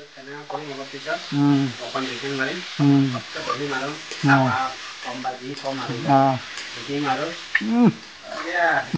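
Mutton and potatoes frying in a pan give a steady, hissing sizzle beneath a person talking throughout.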